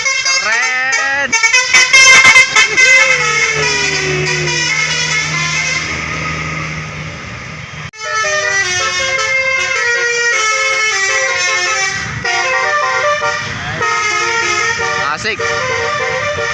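An Indonesian bus telolet horn plays the basuri melody in loud, repeated musical tooting phrases, heard up close alongside road noise and excited voices.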